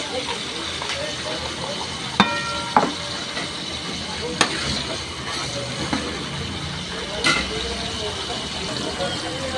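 Garlic, tomato and onion sautéing in a pan for a bagoong dish, a continuous close sizzle with scattered clinks and scrapes of utensils.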